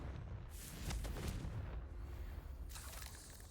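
A fiery Confringo curse in Hogwarts Legacy bursts as a rumbling, crackling blast that swells and then trails off, with a second burst of noise following near the end.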